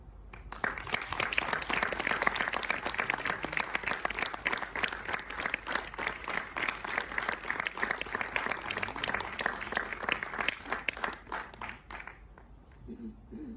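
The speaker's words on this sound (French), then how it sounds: "Je vous demande donc d'applaudir le premier membre du jury" An audience at the Voix des Outre-mer singing contest applauds a jury member, sustained steady clapping filling a large hall for over ten seconds before cutting off, followed by quiet room noise.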